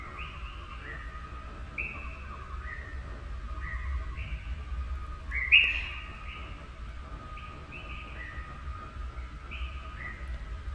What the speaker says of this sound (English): The birds sound so pretty.